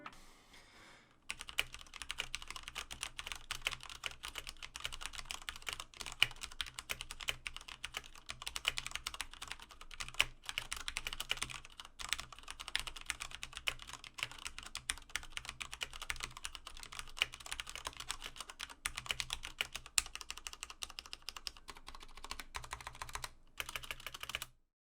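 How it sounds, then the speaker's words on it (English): Steady, rapid typing on a Cooler Master MK850 keyboard with Cherry MX Red switches and ABS plastic keycaps, a continuous close stream of soft clicks and key thocks running for about twenty-five seconds with brief pauses. "here is a quick sound test of those Cherry MX Reds"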